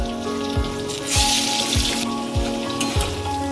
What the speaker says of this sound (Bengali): মাছ ভাজার তেলেই হচ্ছে পেঁয়াজ বাটা তুলে দিচ্ছি